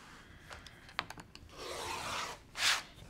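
A rotary cutter slices a strip of quilting fabric along an 8.5 inch ruler, with a few light clicks and taps followed by a soft, steady scraping cut and a final brighter swish; close, quiet and without talking.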